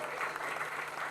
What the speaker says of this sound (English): Everyone, give this guy a round of applause.